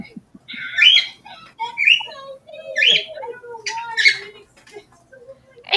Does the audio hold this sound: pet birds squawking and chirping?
yes